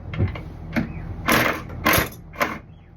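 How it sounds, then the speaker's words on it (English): A hand wrench ratchets while loosening a fastener, giving four or five short, close bursts of clicking spread across a few seconds, with quiet pauses between them. "It keeps untightening the wrench."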